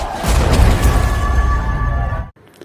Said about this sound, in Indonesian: sebuah insiden kebakaran yang mengakibatkan gudang petasan meledak terjadi